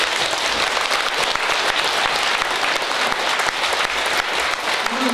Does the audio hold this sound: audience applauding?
yes